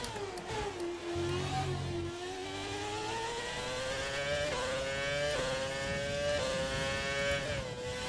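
A V10 Formula 1 car in the F1 2020 video game revs continuously, its high, tonal engine note sweeping up and down through gear changes for several seconds with no talking.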